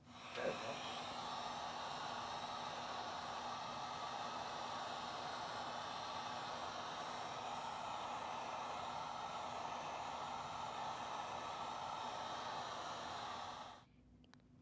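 A heat gun blows hot air over heat shrink tubing on a Minn Kota Talon quick disconnect plug receptacle, making a steady, loud whooshing rush that runs unbroken for about thirteen seconds, then cuts off.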